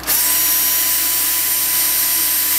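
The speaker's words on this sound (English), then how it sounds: "so I'm going to go ahead and drill all my other holes out." Power drill boring holes through a mini tricopter frame, a loud steady high-pitched whine held continuously after a quick spin-up, close by with no talking.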